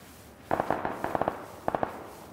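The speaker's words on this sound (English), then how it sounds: "I hear gunshots." Several sharp distant pops in quick bursts, gunfire in the video game Ark, with short pauses between volleys.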